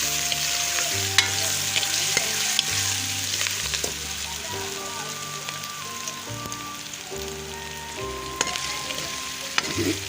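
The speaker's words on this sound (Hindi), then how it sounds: "ये लहसुन अदरक पेस्ट शामिल कर रही हूँ।" Fried onions crackle loudly in a hot pan as garlic ginger paste goes in, a dense steady sizzle close by with small clinks of stirring throughout.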